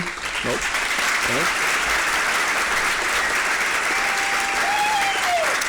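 Sustained, even applause fills a room at an awards breakfast, many hands clapping steadily, with a voice briefly audible over it early on.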